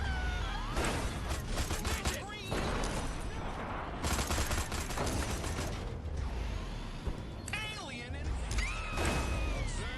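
Sci-fi laser weapon firing in the game Destroy All Humans, with buzzing, warbling sweeps in repeated bursts amid loud mechanical game noise, with a voice talking over parts of it.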